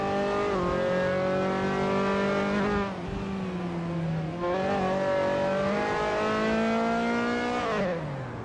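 Dallara F317 race car in a racing video game, its engine howling steadily through gear changes with shifting pitch and exhaust pops, loud and close throughout with no talking.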